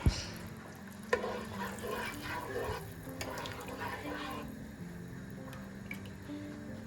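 Lentils are stirred in a pot over the heat as a soup is made. Soft scraping and gentle sizzling carry on throughout, and a few sharper knocks of the utensil stand out near the start, all close and fairly quiet.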